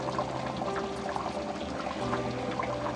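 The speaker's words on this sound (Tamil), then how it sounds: "கொஞ்சமாக தேங்காய் தேங்காய் ஊற்றிட்டு கேஸ் ஆஃப் பண்ணிடலாம்" Coconut milk pours steadily into a simmering sardine fish curry in a Tamil home kitchen, a continuous soft liquid stream over a faint bubbling background.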